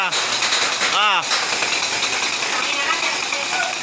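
A toy gun bought on TikTok fires in a loud continuous rapid rattle, like a machine gun, close by, with people's voices underneath.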